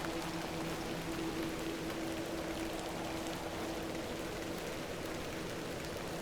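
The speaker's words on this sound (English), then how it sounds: "it is raining quite heavily after all" Heavy rain falls in the adventure game The Excavation of Hob's Barrow, a dense, even hiss of drops on surfaces with a faint low hum beneath, continuous and without speech.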